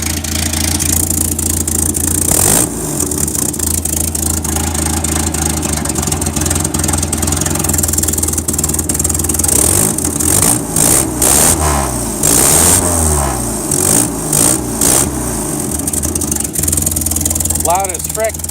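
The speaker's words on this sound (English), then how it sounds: "Loud as frick because of that exhaust leak" A 1961 Land Rover Series II engine with an exhaust leak idles loudly and roughly close by, with occasional revs and blips. Someone talks over it intermittently.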